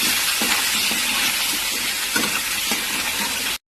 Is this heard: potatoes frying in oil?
yes